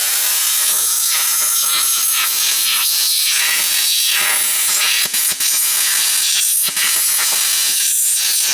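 A plasma cutter slices through half-inch steel plate, a steady loud hiss and roar running without a break for the full stretch, with a couple of brief dips near the end.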